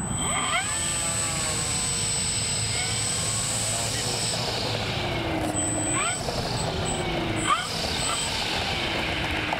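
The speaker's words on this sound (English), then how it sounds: "I know, it sounds like a real plane. Like, yeah, it's powering down." A model plane's propeller whines and slowly winds down outdoors, its pitch sliding lower, while people chat nearby.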